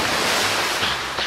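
A waterfall in the VRChat video game pours down in a loud, steady rushing wash of water that fills the whole moment, with no voices over it.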